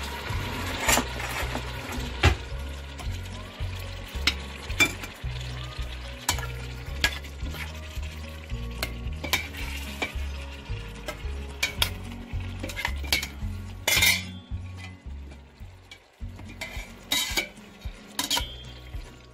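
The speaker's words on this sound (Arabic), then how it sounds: "انا عم قلي اللحمه" Meat fries in a pan with coriander and garlic for a lamb curry: a steady close sizzle broken by frequent loud metallic scrapes and clacks of a utensil stirring against the pan, with no talking.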